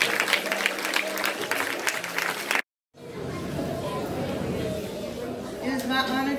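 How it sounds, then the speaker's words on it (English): A school audience at a parent appreciation day gives a short burst of clapping with crowd chatter, cut off by a brief silence, then murmuring voices and scattered noise follow. "Let's give God a big hand clap of praise."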